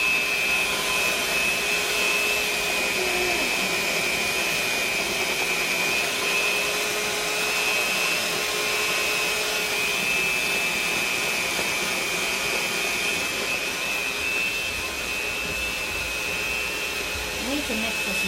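An electric mixer whirs steadily while blending gluten-free pumpkin pancake batter, a continuous motor drone with a high whine that runs unbroken from start to finish.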